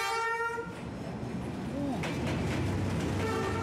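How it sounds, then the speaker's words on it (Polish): A train runs along a railway in Vietnam with a steady loud rumble of wheels on track, and a horn sounds a long blast at the start and again briefly near the end. "Pociąg jedzie."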